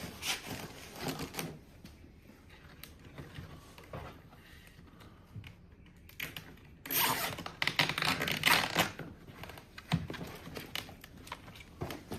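A zip tie is ratcheted tight while an embalming machine is packed for shipment, giving rapid close clicking zips in repeated bursts, the longest and loudest midway through.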